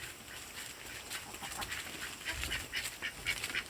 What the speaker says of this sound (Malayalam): ഇതാണ് ഞങ്ങളുടെ താറാവിൻ കൂട്ടം,